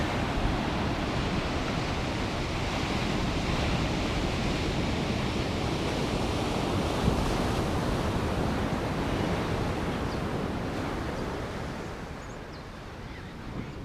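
Ocean waves wash onto a beach along the Great Ocean Road in the evening, making a continuous broad roar of surf that stays steady and eases slightly toward the end, with no voices.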